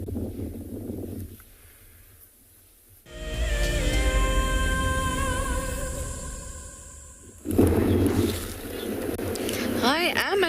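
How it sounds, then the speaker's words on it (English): Strong wind buffets the microphone at a watering hole on a South African safari, a gusty low rumble that swells partway through, with a steady humming tone in the middle and shifting gusts at the end. "I am at a watering hole and it's windy. The wind is really, really picked up and I'm sure you can hear it."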